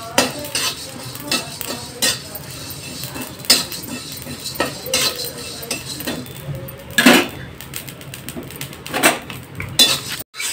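Metal spoon clinking and scraping against a pot while brinjal kalonji ingredients are roasted, with irregular clattering strikes throughout and a louder cluster of knocks near the end.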